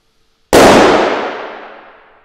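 A big balloon bursts with one sharp, loud bang inside an empty warehouse, followed by a long reverberant echo that fades over roughly two seconds.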